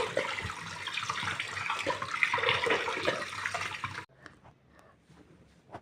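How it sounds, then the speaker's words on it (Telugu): Tap water runs steadily as fish pieces, coated with salt and turmeric, are rinsed close by for about four seconds, then the flow stops and only faint handling noises remain. "ముక్కలన్నిటిని ట్యాప్ కింద నీట్గా వాటర్లో క్లీన్ చేసుకోవాలి."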